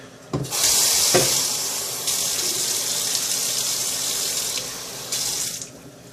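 Water splashes and gushes from a tap into a pan used for braising short ribs for several seconds, with a brief clunk at the start and the flow tapering off near the end.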